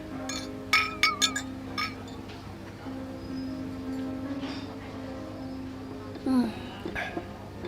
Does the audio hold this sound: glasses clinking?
yes